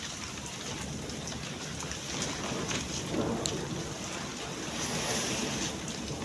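Steady wash of rain with gusty wind noise, a continuous broad hiss with occasional louder patters, no talking.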